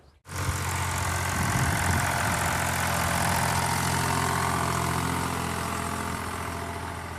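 A tractor engine runs steadily at close range, getting ready for plowing in a farm field, with a loud, constant low diesel rumble and no talk.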